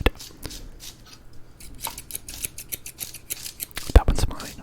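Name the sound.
scissors cutting, ASMR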